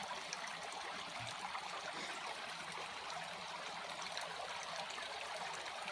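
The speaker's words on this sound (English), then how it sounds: "impeding the flow of water out of the trough." Steady, continuous rushing of water flowing out of a swimming pool trough, a broad even wash of sound with no pauses and no voices.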